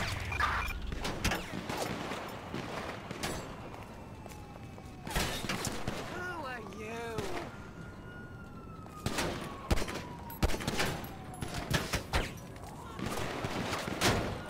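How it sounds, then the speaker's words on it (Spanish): Bursts of gunfire aimed at a police officer in the LSPDFR mod for GTA V, scattered loud cracks and rapid volleys mixed with a wailing police siren, and voices talk now and then. "Ya me están disparando."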